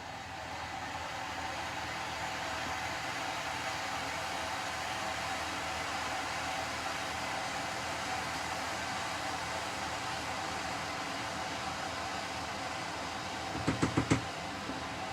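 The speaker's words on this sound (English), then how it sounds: "we're going to have to boil the kettle with another cup." A steady, broad rushing roar of an electric kettle heating water runs throughout, with a few quick knocks near the end.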